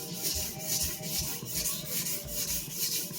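A freshly restored sujihiki knife being finish-sharpened on a stone, close rhythmic back-and-forth scraping strokes at an even pace, about a dozen passes, moderately quiet with no talking.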